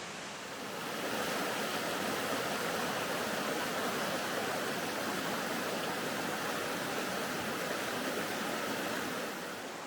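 River Dart water rushes in a steady, broadband wash close to the microphone at the water's edge in woodland, constant and full, with no voices or other distinct sounds.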